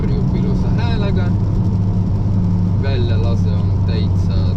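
Alfa Romeo 1.4 turbo petrol engine pulling hard under acceleration, a steady low drone heard from inside the car with a rising engine note and people talking over it.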